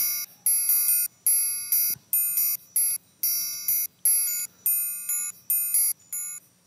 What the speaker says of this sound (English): what CineSamples does do is they have triangles with muting